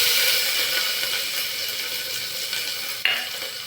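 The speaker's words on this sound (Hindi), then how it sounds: "और करते हैं प्याज फ्राई।" Sliced onions with cumin and coriander sizzle steadily in a pan, a dense continuous hiss throughout, with a brief sharper clatter near the end.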